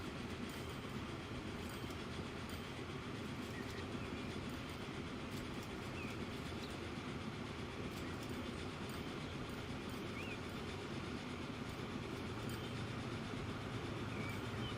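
A train runs along the tracks in the railway game Transport Fever 2, a steady low rumble with continuous rolling clatter, quiet and unbroken for the whole stretch with no voices.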